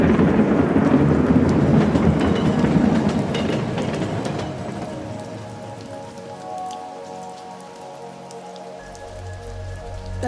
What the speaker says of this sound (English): It's already a little intense with the thunder.